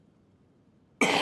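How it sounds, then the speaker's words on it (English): A single sharp cough bursts out abruptly after a stretch of near silence, loud and close. "And I'll just mute while I cough."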